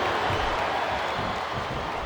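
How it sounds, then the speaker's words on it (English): A capacity arena crowd in the WWE SmackDown vs Raw 2007 video game, a dense, continuous roar of cheering and applause filling the space at steady loudness. "It sounds like this capacity crowd has something on their minds, Taz."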